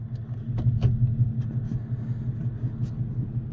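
Four-wheel drive truck engine idling and revving with a steady low rumble, nearby and continuous, after a smoky burnout, with brief faint clatters over the drone.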